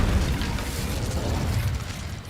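An Incendio fire spell cast in Hogwarts Legacy, a sustained deep roaring burst of flame with rumbling low boom that holds steady for a couple of seconds before easing slightly.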